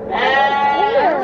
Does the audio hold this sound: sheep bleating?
yes